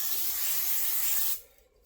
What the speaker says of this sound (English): I use this spray oil from Aldi. It's canola oil in a spray can.